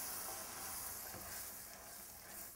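White wine hitting a pan of risotto, a faint continuous hissing sizzle that holds steady and tapers slightly, heard alone without speech.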